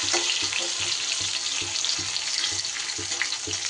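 Turmeric and chili powder are stirred into a frying pan on lowered heat, giving a soft continuous sizzle with a regular scraping rhythm of the spatula, close up.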